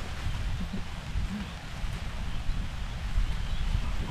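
Rain patters steadily outdoors in the rural countryside during a fishing trip, a dense, even hiss with low rumbling background noise and no voices over it.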